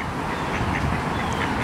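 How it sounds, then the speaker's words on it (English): Ducks quacking near a Tampa Bay, Florida hotel pool area, faint and somewhat distant, blended into a steady wash of nearby highway noise. "You have ducks."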